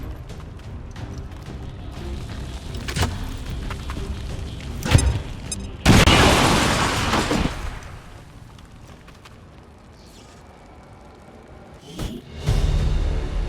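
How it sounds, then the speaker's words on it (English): Grenade explodes in a video game as a heavy boom with a burst of crackling roar that lingers a couple of seconds, followed later by another thump amid ongoing game ambience. "Throwing grenade!"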